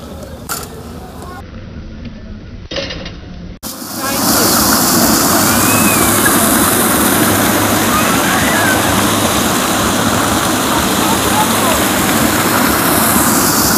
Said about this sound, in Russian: Это маленький одесский водопад.